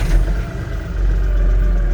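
An LS XR4150 50 hp tractor engine starts up close, a rough low-frequency turnover that settles into a steady, fairly quiet diesel idle.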